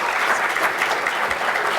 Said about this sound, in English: How about a round of applause for our great students?